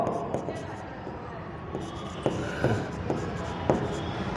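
A pen scratches on paper, making scattered short strokes and taps at an uneven pace. The strokes are fairly faint and sit under someone speaking for the whole stretch.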